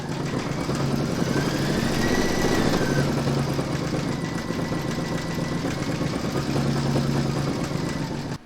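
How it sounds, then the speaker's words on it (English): A home embroidery machine stitches white-thread shark teeth on a bookmark, its motor humming steadily with a fast, even mechanical whir and rhythmic needle chatter, close and unbroken until it stops at the end. "I've loaded white thread into my machine, and we're now going to stitch round number 7"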